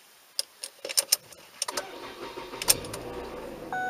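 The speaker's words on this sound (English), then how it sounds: "now we're gonna turn on the engine" A car engine is started during coolant refilling while chasing overheating and a heater blowing no hot air. Several clicks and taps come first, then the engine cranks, catches and settles into a steady idle close by.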